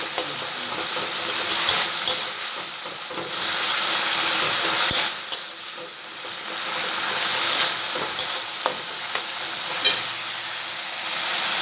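Solpa sour curry cooking in a pan, with a steady bed of frying sizzle broken by repeated sharp clinks and scrapes of a spoon stirring against the metal, moderately close and without voices.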